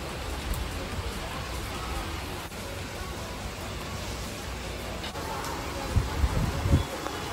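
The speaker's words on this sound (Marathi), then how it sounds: "पाऊस किती जोरदार चालू आहे" Heavy, steady rain pours down in a continuous broadband hiss, with a few louder low thumps near the end.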